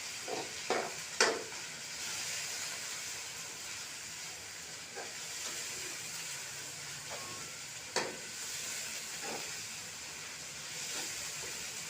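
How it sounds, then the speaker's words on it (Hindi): Garlic and ginger fry in a pan with a steady, low sizzling hiss throughout, broken by a few sharp clinks and scrapes of stirring, loudest near the start and again around the middle. "अच्छी तरह लहसुन अदरक की भुनाई करेंगे ताकि इसका कच्चापन और स्मेल ख़त्म हो जाए"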